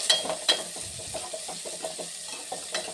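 Chopped onions fry in a pan, a soft sizzle broken by repeated scraping and stirring taps at an uneven rhythm, fairly quiet and close, with no voices.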